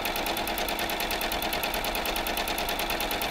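A sewing machine stitches at a fast, even rhythm, its rapid mechanical clatter running steady and close throughout, with no voices.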